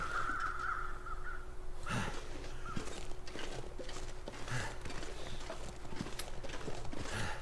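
Crows cawing in the snowy wilderness of the survival game The Long Dark, several harsh calls scattered over steady ambient wind, with a faint trudging or thudding rhythm underneath.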